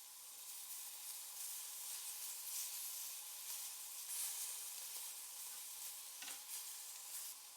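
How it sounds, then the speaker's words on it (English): Marinated beef cubes sear on a hot, dry griddle pan with no oil, a steady, faint, close sizzle and hiss running evenly throughout with no speech. "Place the marinated beef cubes into the pan and allow them to slightly blacken in"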